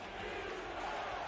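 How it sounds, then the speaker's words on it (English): Football stadium crowd swelling into a loud, sustained roar during a New Orleans game, a broad continuous wash of many voices with no distinct talk. "Crowd getting loud again."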